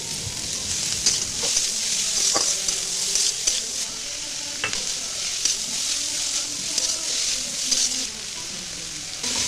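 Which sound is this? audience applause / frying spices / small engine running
frying spices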